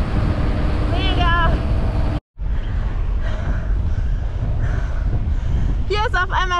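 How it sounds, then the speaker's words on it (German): Strong gusts on an Alpine mountain pass batter the microphone with loud, continuous low buffeting and roaring, broken by one brief dropout. A person speaks over the wind. "Hier ist auf einmal sau windig."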